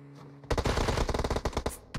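Rapid bursts of MK14 rifle fire in a competitive shooter game, a fast string of loud, sharp close-range shots after a brief quiet lead-in, with a final shot at the very end.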